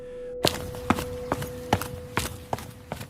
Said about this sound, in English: footsteps in the hallway